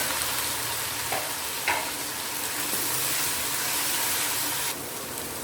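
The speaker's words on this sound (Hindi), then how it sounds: "तो इसको भी जो है साथ फ्राई करेंगे।" Ginger garlic paste frying with browned onions for chicken haleem, giving a loud, steady, close sizzle with a few brief stirring knocks and no voices.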